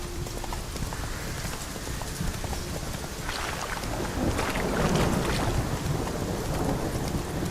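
Roach the horse from The Witcher 3 gallops with a steady clip-clop of hooves, mixed with a continuous rush of wind and ambient outdoor noise that swells slightly toward the end; no one speaks.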